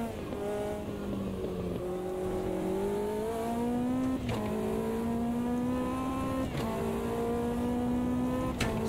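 A Lotus 620R engine drones continuously in the racing game Automobilista 2, the pitch sliding up and down as the throttle is worked through a drift, with brief shifts and clicks and no talking.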